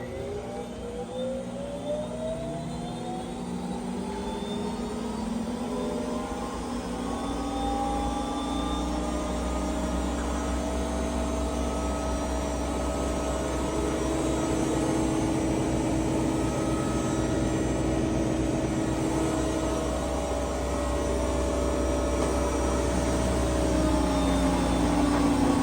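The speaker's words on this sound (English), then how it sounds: "drain pump turns on until empty, then motor starts spinning at max RPM for 30 seconds" An Electrolux washer runs its drain pump and then spins its motor toward maximum RPM, producing a continuous, moderately loud whirring with tones that slowly rise and layer over a low hum.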